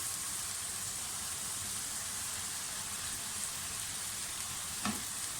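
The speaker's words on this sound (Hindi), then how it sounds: "लहसुन अदरक का पेस्ट और हरी मिर्चों का पेस्ट फ्राई हो जाए तो साथ ही इसमें चिकन डाल दें" Chicken mince dropped into a pan of frying garlic-ginger paste and green chili paste, giving a steady, even sizzle close by with one brief clink near the end, no talking.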